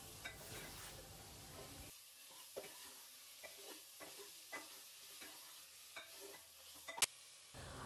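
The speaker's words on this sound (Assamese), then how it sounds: "এতিয়া মই মাংসখিনি ভালদৰে লৰাই লৰাই 10 মিনিটমান ভাজি থাকিম" Meat with onion stirred and frying in a pan, a soft steady sizzle with scraping stirs recurring every second or so, close and fairly quiet, with no talk.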